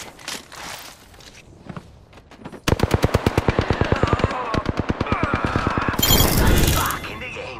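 Rapid bursts of video game gunfire, first a brief volley then a long sustained string of evenly spaced shots, loud and close, with a sharp crackling burst near the end.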